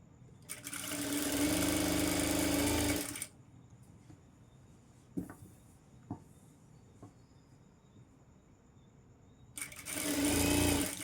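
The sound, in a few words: sewing machine stitching a golden saree fall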